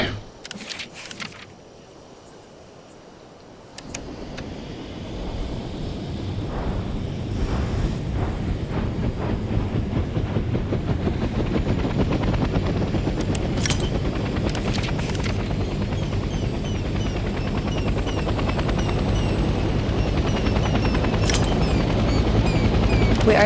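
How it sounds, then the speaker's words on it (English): Helicopter engine in Hell Let Loose Vietnam spinning up from a quiet start, then a steady, loud, continuous rotor and turbine roar building as it lifts off and flies, with no talk over it. "Let's start by getting in the pilot seat and turning the engine on."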